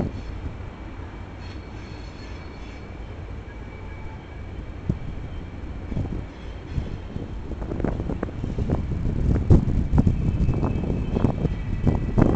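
A freight train led by CP Rail and BNSF GP38 locomotives rolls past on a curve, a steady rumble with wheel squeal and clanking that grows louder toward the end, heard outdoors with wind buffeting the microphone.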